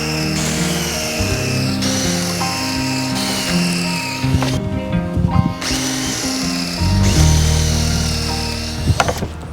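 A power drill bores pocket holes into plywood in a DIY workshop setting, with several short whirring bursts separated by brief pauses and clattering handling noises, loud and close.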